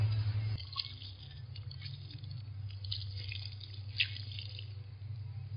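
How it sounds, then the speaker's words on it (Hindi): Water is poured from close by onto the root ball of a young sweet lime tree being planted, giving soft trickling and dripping with a few splashy squishes over a steady low hum. "जो इसकी रूट बाल है इस पर मैं थोड़ा सा पानी डाल दूंगा"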